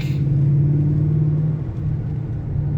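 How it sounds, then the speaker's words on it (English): A Ford Mustang's exhaust rumbling low and steady nearby, with a slight rise and dip in pitch, no talking. "Hopefully they got the exhaust noise."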